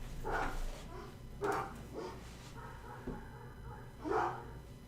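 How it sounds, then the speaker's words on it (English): Several household dogs bark in short, scattered bursts, about four sharp yelps over a low background hum, fairly close and moderately loud with no talking. "Dogs."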